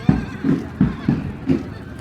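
A horse in a religious boat-float procession neighs or snorts in repeated low bursts, about four evenly spaced calls within two seconds, close and fairly loud with crowd noise behind.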